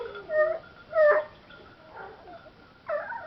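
A dog in a kennel lets out several short whimpers and high yips in uneven bursts, close by, with brief quiet gaps between each cry.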